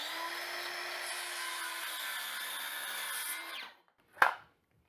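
A circular saw whines as it cuts through a wooden board, a steady high-pitched motor tone that runs for a few seconds, then winds down to silence, followed by a single short knock close by.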